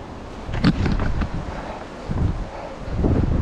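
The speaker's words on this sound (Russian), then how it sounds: "Интересный звук ветра" Wind gusts rush past the microphone in uneven swells high in the Hawaiian mountains on a hiking trail, moderately loud and close, with no one talking.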